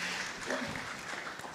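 A brief, faint patter of audience applause at an interview event with a film director, a steady wash of clapping without any voices over it.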